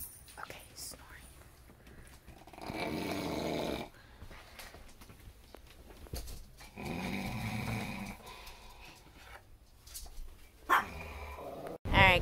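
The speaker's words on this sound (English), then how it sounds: "Okay, he's snoring." A sleeping dog snoring in slow repeated swells of breathy rasp, several long snores close to the microphone, with quiet whispering voices between them and a sharp clatter at the end.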